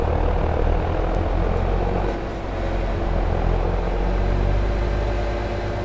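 Tractor engine in the game Farming Simulator 22, a steady loud low droning rumble with a continuous hum that holds throughout and dips briefly near the middle.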